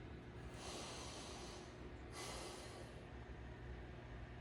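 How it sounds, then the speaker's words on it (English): Two slow, deep breaths during a yoga stretch in child's pose, each a long airy inhale and exhale, soft and close with faint room hiss. "Take 2 cleansing inhales and exhales."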